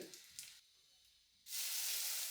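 Mustard seeds and dried red chillies hit hot coconut oil, a faint crackle giving way to a loud, steady broadband sizzle that swells up and holds near and close.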